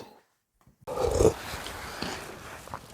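A dog growls close by, a short rough rumbling burst after a moment of silence, followed by fainter snuffling and shuffling noises.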